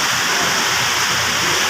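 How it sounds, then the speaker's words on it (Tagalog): Loud, dense downpour roaring steadily, a constant close wash of heavy rain with no breaks. "Grabe lakas ng ulan."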